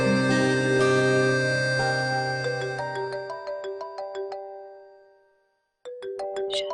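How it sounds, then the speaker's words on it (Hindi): A mobile phone ringtone plays a repeating melodic chime pattern, loud and close, fading out midway, then ringing again after a short silence. "किसका फोन है माहीन? उठाती क्यों नहीं हो?"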